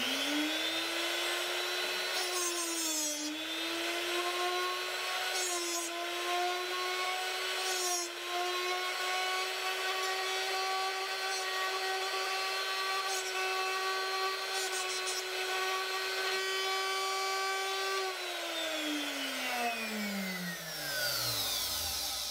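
A drill bit sharpener grinding a drill bit whines steadily at close range, its pitch holding with slight wobbles before spinning down at the end.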